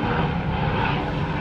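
A fixed-wing aircraft passes overhead with a steady, loud engine drone, filling the moment with no talking.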